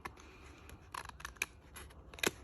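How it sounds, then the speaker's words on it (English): Scissors snip through a paper envelope in a few short, crisp cuts spread across the moment, with one sharper snip near the end, close and fairly quiet with no talking. "I do like to put a bit of snip"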